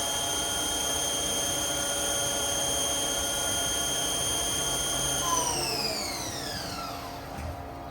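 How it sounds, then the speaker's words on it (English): A 2010 HAAS TL-2 CNC toolroom teach-style lathe runs with a steady high whine and layered tonal hum. Near the end the pitch sweeps downward as the spindle slows and winds down. "the preceding video is a HAAS TL-2 CNC lathe"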